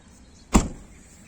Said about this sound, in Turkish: Şurada bir kol var bakın mandal var. Bunu çekince ön taraf açılıyor.